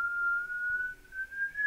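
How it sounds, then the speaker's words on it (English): A single steady whistle like a kettle heating water holds one faint sustained tone that rises slightly in pitch over about two seconds, with no talk over it. "I thought it sounded like a whistle, like a kettle."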